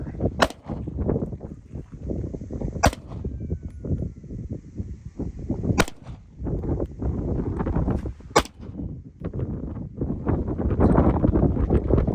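Four sharp, separate gunshots from a Ruger RXM pistol fired outdoors, evenly spaced a few seconds apart, over a constant rumble of wind and background noise.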